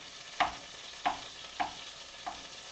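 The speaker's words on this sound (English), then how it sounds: "we're just chopping it up and make sure we separate the noodles here" Four evenly spaced scraping taps as a utensil chops through reheating macaroni and cheese in a pan, each stroke a short sharp knock over a soft, steady background hiss.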